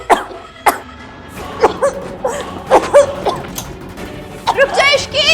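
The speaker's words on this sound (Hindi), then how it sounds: "आपको भी तो आ रही है ना खांसी?" Several short, harsh coughs from smoke spread across a few seconds, close to the microphone, with people talking between them.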